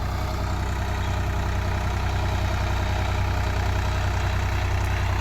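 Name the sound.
Swaraj 855 tractor engine idling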